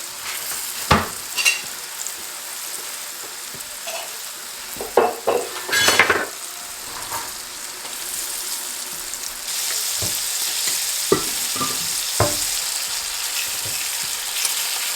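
Food fries in hot oil in a pan in a home kitchen, giving a steady crackling sizzle that swells louder partway through, with scattered clinks and scrapes of utensils against the pan.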